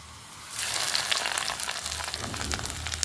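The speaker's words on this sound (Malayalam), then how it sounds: "അപ്പോൾ നമുക്ക് വറുത്തോട്ടാം." Onions frying in hot oil for kappanga (green papaya) pulinkari: a close, steady crackling sizzle that rises sharply after a brief quiet start and continues alone with fine popping.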